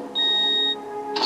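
An electronic alarm in Resident Evil Nemesis (1999) gives a steady high-pitched tone for about half a second, then a fainter trailing beep and a short burst of noise at the end.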